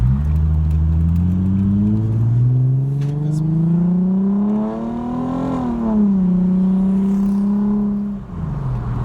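A car engine runs steadily nearby, its pitch slowly rising as it revs up, then easing back down to a smooth idle hum.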